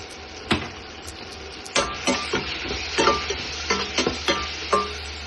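Tomato masala with chili and turmeric cooks in a pan, giving a steady low sizzle broken by sharp, irregular scraping and stirring knocks, close and without talk.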